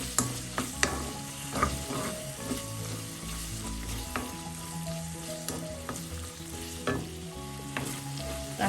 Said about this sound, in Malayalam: കാൽ ടീസ്പൂൺ പഞ്ചസാരയും കൂടെ ചേർത്ത് നന്നായി മിക്സ് ചെയ്യും